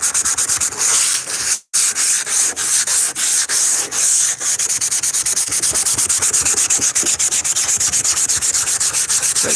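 Steady, rhythmic back-and-forth scraping of sandpaper across a rusty surface, close and loud, with one brief pause early on.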